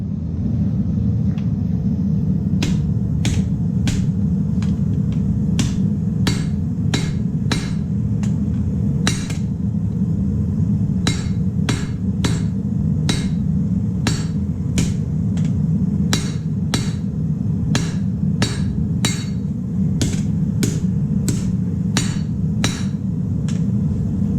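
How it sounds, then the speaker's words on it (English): Hammer blows ring out as steel is flattened at a forge for a throwing star: around thirty sharp metallic strikes in an uneven rhythm over a constant low forge roar, close and loud. "I'm going to put it in the forge and flatten it out so I have a solid piece to work with"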